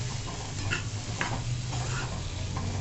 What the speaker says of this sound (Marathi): आता हे चणे परतवून घेऊ थोडे